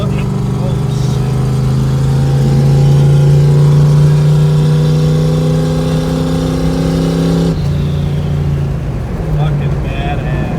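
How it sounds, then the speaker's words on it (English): Turbocharged Trans Am with a PowerGlide transmission running low boost, heard from inside the car as it accelerates hard, a loud sustained engine roar with a rising tone that shifts abruptly partway through, then continues at full volume. "that's definitely the fastest car I've ever ridden in, and that was on low boost, only 10 pounds"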